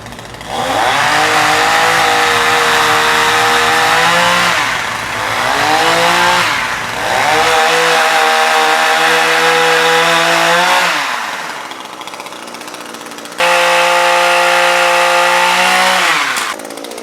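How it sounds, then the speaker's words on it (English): A pole-mounted chainsaw on a 12-foot pole revs loud and steady, rising and falling as it bites into branches, with brief dips between cuts. "handles a chainsaw on the end of a 12-foot pole"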